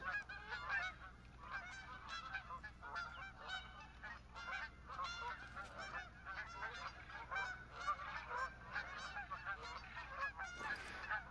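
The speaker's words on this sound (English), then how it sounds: "Let's check on these geese." A flock of geese honks in theHunter: Call of the Wild hunting game, many overlapping nasal calls in a busy continuous chorus, moderately distant and steady throughout.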